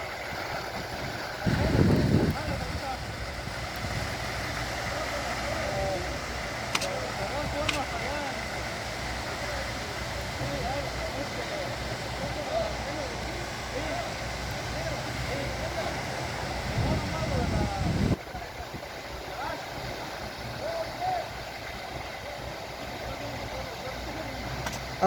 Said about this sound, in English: So now here it is again. So it's resumed pumping the cement mixture.